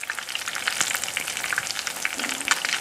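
A fish fillet fries in hot oil, giving a steady, close crackling sizzle with scattered sharp pops and no talking.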